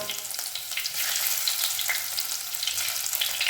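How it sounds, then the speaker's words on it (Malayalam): Small onions drop into hot oil and fry with a constant, close sizzle, a busy crackling hiss that runs without a break. "ചെറിയ ഉള്ളി ഇട്ട് കൊടുത്തു കേട്ടോ"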